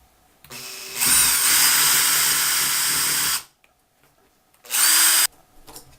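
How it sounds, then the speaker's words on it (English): A power drill whirs at high speed for a couple of seconds, stops, then spins again briefly; loud and close. "Now we're going to use the same drill as we did before and drill out some holes."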